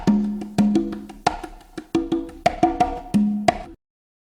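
A percussion loop from a sample pack for an African-style beat: tuned, hand-drum-like hits land in a steady, syncopated pattern for about four seconds, loud and close, then cut off abruptly into silence.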